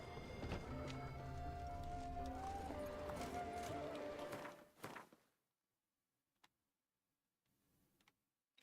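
Roach the horse in The Witcher 3 trots with rhythmic hoof clip-clops over game music and ambience, breaking off abruptly into near silence with a few isolated ticks.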